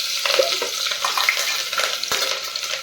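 Hot oil frying steadily in a pan at the start of a whole cluster bean (guar) curry, a continuous close hiss with small crackles and a couple of stirring knocks.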